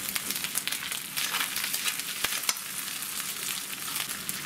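Thick, salty teriyaki sauce sizzles in a pan while being stirred, a continuous frying hiss broken by sharp scraping clicks from the utensil.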